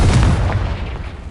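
Confringo explosion spell in Hogwarts Legacy on PlayStation 5, a single loud, close boom with a heavy low rumble that fades over about a second.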